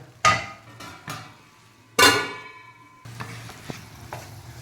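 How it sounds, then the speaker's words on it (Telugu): Mushrooms with salt and chili stirring in a pan, with a few sharp utensil clanks against the metal over a low, steady sizzle, close by and without speech. "మష్రూమ్ ఉప్పు కారం అన్నీ పట్టేట్లు ఒక టూ త్రీ మినిట్స్ వేపుకొని"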